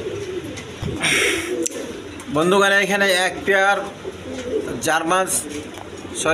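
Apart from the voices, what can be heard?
German pigeons cooing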